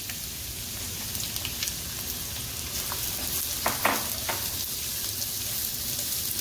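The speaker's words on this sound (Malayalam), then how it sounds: "ഇതിലേക്ക് നമുക്ക് ചെറുതായി നീളത്തിലരിഞ്ഞ് വെച്ചിരിക്കുന്ന ചുവന്നുള്ളി ഇട്ട് കൊടുക്കാം." Thinly sliced shallots dropped into hot coconut oil sizzle loudly and steadily, with a dense crackling hiss and a few brief bursts of spattering. No voices are heard.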